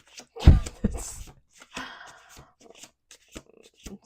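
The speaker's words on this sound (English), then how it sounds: "Last shuffle." An oracle card deck gets a brief final shuffle at close range, a short cluster of papery slaps and rustles followed by scattered light handling sounds and faint voice noises.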